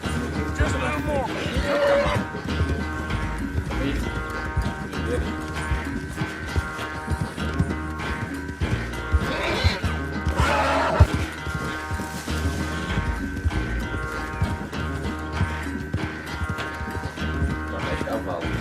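A horse in the video game Red Dead Redemption 2 whinnies a couple of times over hoofbeats and ongoing game sounds, with a voice talking across much of the stretch.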